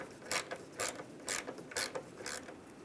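A ratchet with a 7mm socket backing out a windshield wiper transmission bolt on a 2007-2013 Chevy Silverado: five evenly spaced, close bursts of clicking strokes in a steady rhythm.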